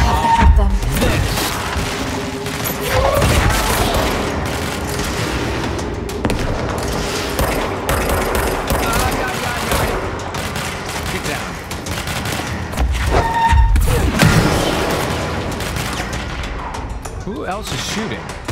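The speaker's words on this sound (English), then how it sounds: "Who else is shooting?" Sustained gunfire from a firefight in the video game Control, with dense overlapping shots, bursts and booms running throughout at a steady loud level, swelling near the middle and end, with occasional voices mixed in.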